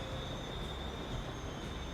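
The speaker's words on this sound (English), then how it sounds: "We got another freight train here instead." A freight train in the video game Transport Fever 2 rolls past as a continuous, fairly quiet rumble with a thin, steady metallic whine over it, with no other sounds.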